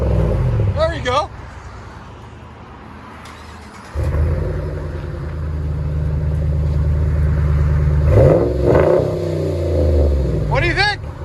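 A RAM 1500 pickup's 5.7L HEMI V8 with a Flowmaster Super 10 race muffler idles with a deep, loud rumble, then revs up strongly and holds a steady drone close by, with people talking briefly at the start and end.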